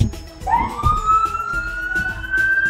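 Toy ambulance siren at a hands-on children's museum exhibit, a rising electronic wail that climbs and holds a high tone over background crowd bustle.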